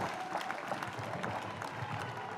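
Guests at a civil wedding ceremony clap together, a short, continuous burst of applause in an indoor room with a faint crowd murmur underneath.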